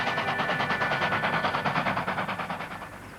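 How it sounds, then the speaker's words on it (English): A steam train chugs along with a rapid, regular rhythmic pulse, heard at moderate distance and gradually fading toward the end. "romantic journeys on steam-hauled trains"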